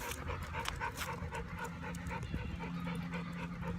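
Two dogs, Odie and Homer, pant rapidly and steadily on a walk in the park, close by, with faint outdoor background noise.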